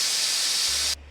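A Laurastar IZZI Plus garment steamer lets out a steady, close hiss of steam that cuts off abruptly near the end, leaving a low hum.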